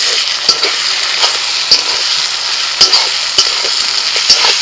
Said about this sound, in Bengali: ভালো করে নাড়াচাড়া করে নি।